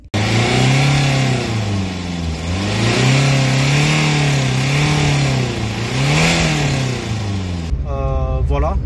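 A Renault Clio 1.5 dCi diesel with a failed turbo, smoking under throttle, revs up and down in long repeated swells close by, loud and steady, then a short burst of talk near the end.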